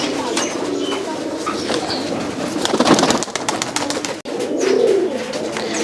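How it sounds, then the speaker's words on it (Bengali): High-flyer pigeons in a loft at a Rajshahi pigeon farm coo and rustle steadily, close by, with softer cooing drifting through the background and no talk. "এই কবুতরগুলো হাইফেলাই কবুতর।"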